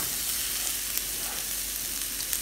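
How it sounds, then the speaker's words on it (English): Onions sizzle steadily in a Le Creuset paella pan with browning rice, a loud, continuous hiss of frying with no pauses and no voices. "I'm going to add my onions"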